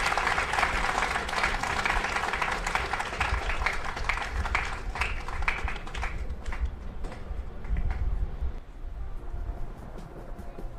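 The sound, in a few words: audience applause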